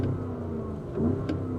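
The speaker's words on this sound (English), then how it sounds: "Ooh, that's a really nice sound. So I love the fact that Porsche has decided to go back to a V8 engine" A 2024 Porsche Cayenne S Coupe V8 in sport mode with its exhaust baffle open gives a short, fairly close engine rev, a low mid-pitched growl that swells briefly and then settles.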